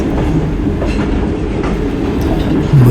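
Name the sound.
Shalimar Express passenger train running on rails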